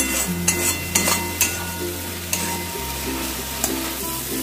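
Tomato masala sautéed in oil in a pan for a Bengali jackfruit and prawn curry, a continuous close sizzle broken by a few sharp scrapes and knocks of a spoon stirring against the pan.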